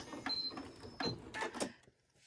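Domestic sewing machine back stitching at the end of a quilt block seam, short bursts of mechanical whirring and clicking stopping and starting, close and fairly quiet, ending in near silence.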